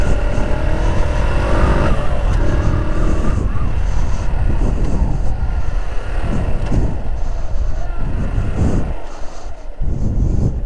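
Car engine accelerating gently through a turn on a driving-school practice track, a steady loud drone that swells and eases, heard from close by with no talk.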